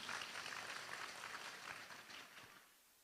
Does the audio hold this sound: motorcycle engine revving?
no